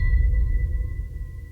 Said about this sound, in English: And then I've just got these impacts from Rob Late's pack.